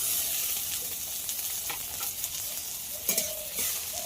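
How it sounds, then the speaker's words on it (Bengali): Onions and tomato frying in mustard oil in a wok, a steady soft sizzle with a few scraping stirs and clinks, close and alone with no talk. "পেঁয়াজটা একটু ভেজে নেব ভালো করে লাল লাল করে এবার এতে দিয়ে দেবো একটা বড় সাইজের টমেটো কুচি"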